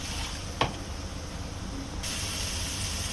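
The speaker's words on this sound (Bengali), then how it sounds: "এবার সামান্য পানি দেবো, মুরগিটা আর মশলাটা একসাথে কষানোর দিকে।" Water added to a pan of fried chicken, potatoes and spice masala hisses steadily with close steam and sputter, with a brief sharp clatter near the start.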